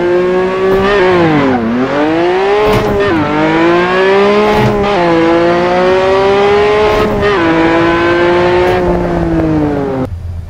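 A Mini racing car modded into the Assetto Corsa video game, with an engine revving hard and loud up close, its pitch sweeping and dipping with each gear change across a continuous roaring run.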